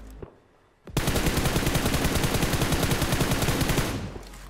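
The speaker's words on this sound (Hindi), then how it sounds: "फायरिंग बहुत हो रही थी।" After a brief quiet moment, loud sustained automatic gunfire erupts in the video game BGMI, a rapid, even stream of shots that holds for about three seconds before tapering off.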